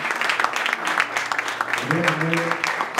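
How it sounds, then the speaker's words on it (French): A church audience at a bilingual French and German gathering applauds with steady, close clapping while voices carry over it. "Können wir nochmal applaudieren?"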